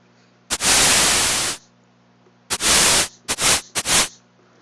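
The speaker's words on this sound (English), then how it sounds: "I could change it to white noise." A synthesizer generates white noise as a harsh, hissing static: one sustained burst of about a second, then three shorter bursts in quick succession, loud and close with silence between them.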